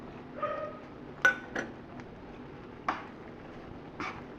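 A spoon mixing coconut powder into a dish clinks lightly against the vessel, with scattered, sparse taps and scrapes at a modest distance.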